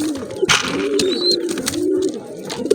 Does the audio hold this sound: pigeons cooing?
yes